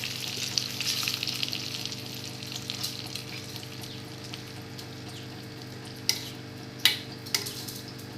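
Spices crackling and sizzling in hot oil for a tadka tempering, a steady frying hiss throughout with a few sharp pops and clinks of a utensil near the end, fairly close and moderately loud.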